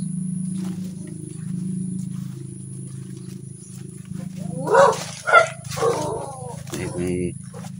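A stray dog in an abandoned banana grove gives a few short barks and whimpers in quick succession near the middle, over a steady low hum with a person talking.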